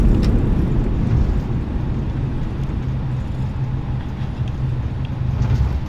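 An A320 rolls out on the runway with reverse thrust engaged in Microsoft Flight Simulator, a loud, steady low engine roar with a rumbling drone that holds throughout.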